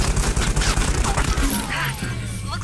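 Rapid burst of video game gunfire, a dense fusillade of loud cracks and booms rolling over a low rumble, with faint talk beneath.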